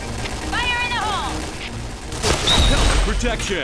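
Rapid gunfire in the Point Blank online shooter, loud clustered bursts of shots in the second half, preceded by chirping game effects and background noise.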